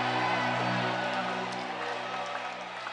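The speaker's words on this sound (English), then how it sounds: "Get up on your feet and shout glory for the nation." Congregation at a church revival service rising and shouting glory, a loud sustained wash of crowd voices and cheering over a steady musical drone, fading slightly toward the end.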